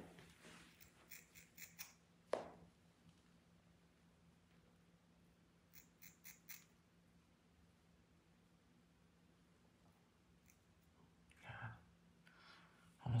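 Quiet, close snips of small scissors trimming a German Shepherd's paw hair in short bursts, separated by near-silence and faint handling noises.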